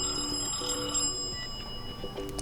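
Bell Phone ringtone on a Blackview BV9700 Pro phone, a fairly soft, steady ringing tone with an even sustained level.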